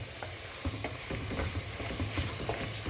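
Pork wet fry cooks in a pan with a steady soft sizzle, broken by light scraping and stirring knocks close by.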